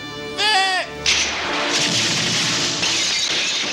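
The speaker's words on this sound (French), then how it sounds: "Il tire avec de vraies balles." Cartoon gunfire in a G.I. Joe episode dubbed in French: a short high-pitched cry comes first, then a sudden loud burst of dense, sustained noisy firing that fills the rest of the clip.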